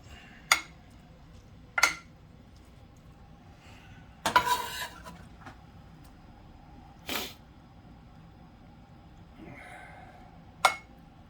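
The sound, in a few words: spooning a layer of meat into enchilada casserole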